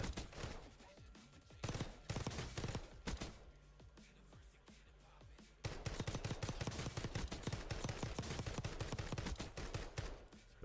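Rapid automatic fire from a Kilo rifle in a first-person shooter video game, bursts of loud gunshots in the opening seconds, then a long sustained stream of fast, evenly spaced shots.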